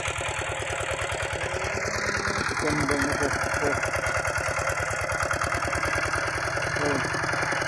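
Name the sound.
tractor engine running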